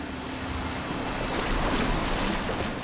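Small boat from Assassin's Creed Odyssey speeding across ocean waves, a steady loud wash of rushing water, surf and wind noise filling the whole moment without any voices.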